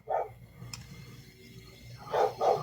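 A dog barks a few short, sharp times, once at the start and twice near the end, fairly close over a quiet background.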